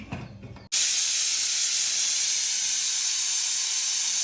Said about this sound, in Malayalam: ഇനി നമുക്ക് കുക്കർ അടച്ച് വെച്ചിട്ട് വിസിൽ ചെയ്ത് വരാം.